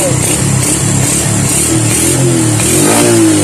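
A Suzuki Raider J 110 motorcycle engine runs close by, pulsing with a rough mid-pitched rhythm, then revs up and rises in pitch toward the end, loud and alone.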